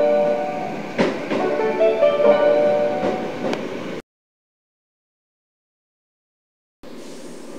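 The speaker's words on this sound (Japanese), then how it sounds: "網干行きの電車が到着します。" A Sanyo Electric Railway train bound for Aboshi rumbles and clatters into Nishi-Shikama Station in Japan for about four seconds, fairly loud with a few sharp knocks, then silence before a quieter rush resumes.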